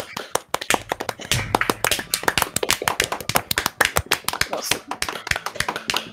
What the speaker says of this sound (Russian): Аплодисменты стоя, сидя на стуле.